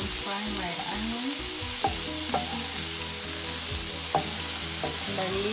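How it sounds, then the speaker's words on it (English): Onion frying and sizzling steadily in a hot pan while cooking a stewed fish curry, with occasional stirring scrapes over the constant close, loud crackle. "now I'm frying my onion,"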